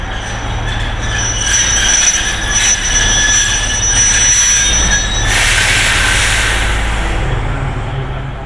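An Alishan mountain railway train runs close by in Taiwan, loud and steady, with sustained high metallic wheel squeals layered over a rumbling rolling roar.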